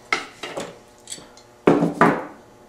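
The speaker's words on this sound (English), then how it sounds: "I'll give it a good pinch and then just snap it off" Pliers grip and snap off a piece of tough wire during a bird trap build, a few sharp metallic clicks and scrapes in irregular bursts, close and clear, with no one talking.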